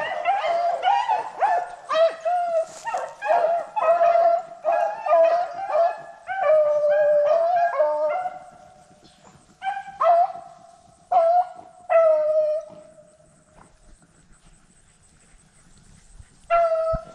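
Beagles running rabbits on a track bay and howl in a chorus of overlapping, drawn-out cries, dense at first and then thinning to scattered single yelps and howls, loud and fairly near outdoors.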